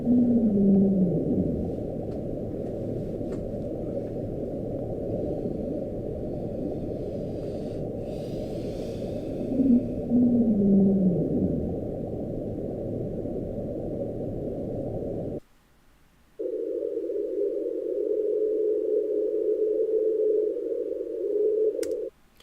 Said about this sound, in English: It's probably a whale